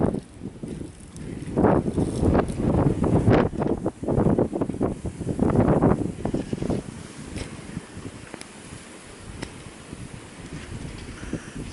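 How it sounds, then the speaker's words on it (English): Gusty north wind during a February nor'easter in Leominster, loud rumbling buffeting against the microphone that swells over several seconds and then eases to a steadier, softer rush. "Let that wind go. It's from the north, gusting to about 30 miles an hour."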